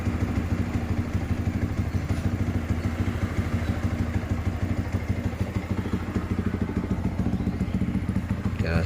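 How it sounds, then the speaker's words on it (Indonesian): Close up, a fuel-injected motorcycle with automatic idle control runs after idle tuning, its engine putting out a steady, rapid, even pulse with faint mechanical clatter. "Dirasain motor benar-benar ketika dibuka gas dari bawah sampai atas"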